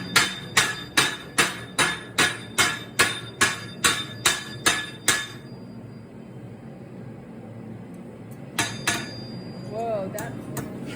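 Hot metal hammered flat in a shop to form the head of a sculpting tool: a steady run of about a dozen loud, ringing blows, then a pause with background hiss and a few lighter final strikes, close by.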